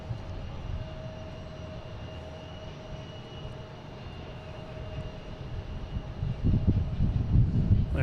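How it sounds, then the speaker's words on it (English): Airbus A380-800 airliner at Boston Logan airport, a steady distant engine roar with a faint whine that swells louder toward the end as the jet draws closer. "An A380-800, flight 212, heading to London Heathrow."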